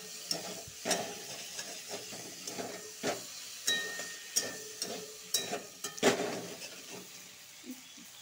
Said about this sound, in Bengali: টমেটো দিয়ে আবার ভালো করে ভাজবো।